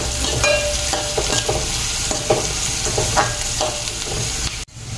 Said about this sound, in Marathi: छान असा परतून घ्यायचा आहे कांदा